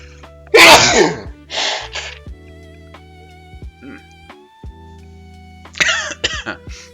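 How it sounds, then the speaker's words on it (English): A loud, sharp sneeze bursts out close by, followed by a second, smaller sneeze-like burst later over a steady background hum. "And I need to sneeze, so do excuse me"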